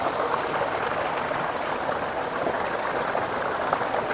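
A high-pressure household tap gushes water into a container, a loud, close, steady hissing rush without pause.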